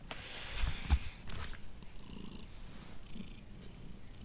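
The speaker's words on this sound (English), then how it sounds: "He's just right here next to the computer, purring." A cat purrs close by, a low rumbling murmur with a couple of soft bumps and rustles near the start, no talking.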